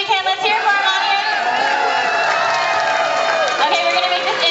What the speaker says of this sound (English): audience, you're going to cheer for them the whole entire time